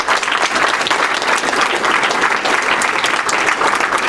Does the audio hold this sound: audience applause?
yes